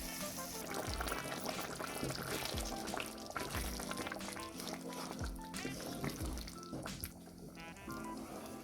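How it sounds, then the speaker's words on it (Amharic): Boiling water is poured into a pot of lasagna sauce, a steady splashing pour and gurgle heard close, with kitchen background noise. "አሁን የፈላ ውሃ ጨምርበታለሁ"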